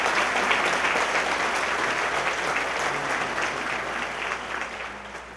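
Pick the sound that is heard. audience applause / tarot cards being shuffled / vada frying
audience applause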